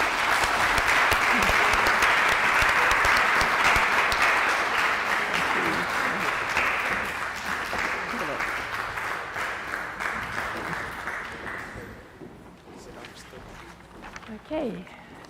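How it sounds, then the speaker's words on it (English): An audience at a celebration event applauds loudly and steadily, the clapping holding strong before gradually thinning and fading out toward the end. "if we can just give a heartfelt round of applause"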